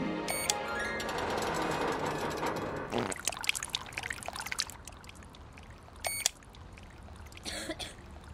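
Water from a cartoon dancing fountain gushes in a loud steady stream for a few seconds, then breaks into spattering, splashing bursts with a couple of sharp clatters.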